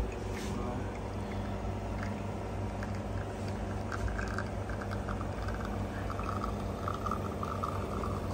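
Espresso trickles slowly from the machine into a cup during extraction, a soft steady pour under a constant hum of the machine, with faint clinks.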